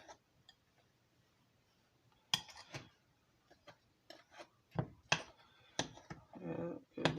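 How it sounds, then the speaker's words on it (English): Red velvet cake batter stirred in a bowl, giving scattered, irregular scrapes and clinks of the spoon against the bowl that grow busier toward the end. "Give this a good stir. Make sure you stir from the bottom if you're mixing it in like this."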